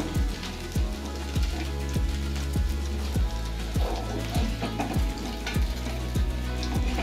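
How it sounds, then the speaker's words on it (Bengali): Baby corn deep-fries in hot oil in a kadai, giving a steady, dense sizzle with bubbling crackle. It is close and continuous, with no voices. "তো বেবি কর্নগুলিকে গোল্ডেন ব্রাউন হওয়া পর্যন্ত আমরা ভালো করে ভেজে নেব।"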